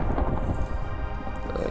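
Thunder from lightning in a Minecraft modpack game set in the Aether rumbles as a steady, dense, low roar that fills the moment, loud and continuous without any talk.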